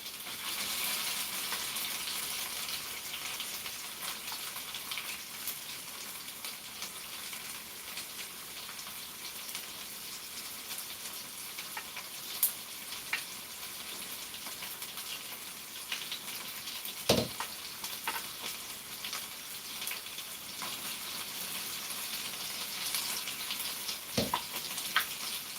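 Food with tomato paste and bay leaves fries in a pan, giving a steady, soft sizzle throughout, with a few sharp clinks and scrapes from stirring now and then.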